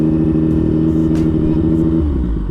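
Yamaha MT-09 motorcycle engine at about 70 degrees during quickshifter setup, a loud steady close-up rumble with layered harmonic revving that eases off near the end.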